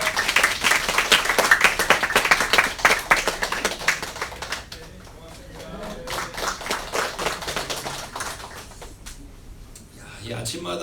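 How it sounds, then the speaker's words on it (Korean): A church congregation at an early-morning weekday prayer service claps loudly and briskly for several seconds, then the clapping thins into scattered claps under speech. "여러분 큰 박수 해주세요."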